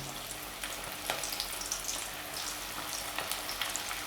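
A quarter cup of vegetable oil sizzles and crackles steadily in a pot on low heat, with scattered sharper pops over a constant hissing bed, close by and unaccompanied by voices.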